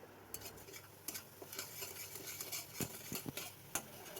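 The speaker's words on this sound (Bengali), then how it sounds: "মশলাটা ভালো করে কষিয়ে নিচ্ছি।" Masala of ground coriander, red chili powder and other spices sautés in a pan, with a faint sizzle under repeated clinks and scrapes of a spoon stirring against the metal.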